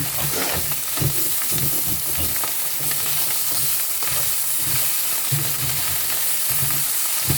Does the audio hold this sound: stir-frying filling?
yes